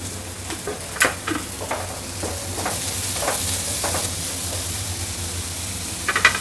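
Onions and red, yellow and green bell peppers sizzle steadily in a pan, with a constant hiss broken by intermittent stirring scrapes and clinks, close and alone without speech.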